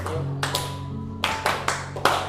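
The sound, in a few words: class clapping once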